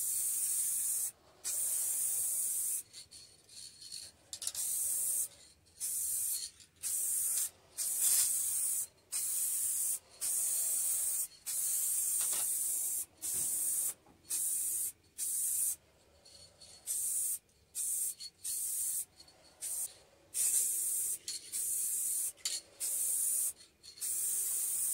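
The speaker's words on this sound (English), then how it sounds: "Here we go with spraying Candy Forest Green paint." Candy Forest Green paint is sprayed onto the parts of an electric Raleigh Chopper bicycle in a series of short and longer hissing bursts separated by brief pauses, close and steady, with no talk.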